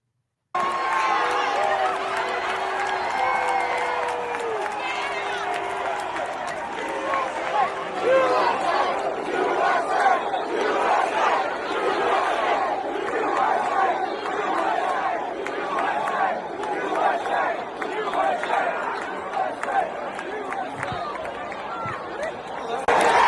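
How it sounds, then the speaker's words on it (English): A large crowd reacts loudly at an event with dense chatter, shouts and cheering, mixed with voices. The steady roar runs for the whole stretch and stays close. "it shows the crowd's reaction to what"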